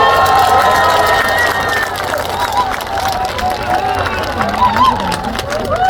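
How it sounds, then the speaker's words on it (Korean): A large outdoor crowd at the Baekje cultural festival by the Geum River cheers and shouts continuously, with high voices and whoops rising over a loud, sustained roar. "여러분의 뜨거운 함성이 지금도 제게 큰 힘이 되고 있습니다"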